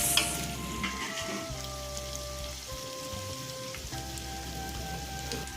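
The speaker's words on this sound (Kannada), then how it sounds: "ಇವಾಗ ಟೊಮೊಟೊ ಹಾಕ್ಕೊತಾ ಇದ್ದೀವಿ" Blended tomato goes into a hot frying pan for biryani and sets off a loud, continuous sizzle and spatter that stays busy and close for the whole stretch, with no voices.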